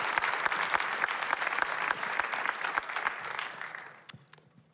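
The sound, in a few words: audience applause for panelist and moderator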